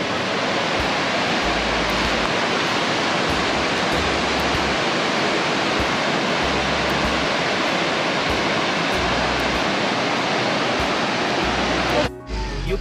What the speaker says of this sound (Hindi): तो इधर एक नदी है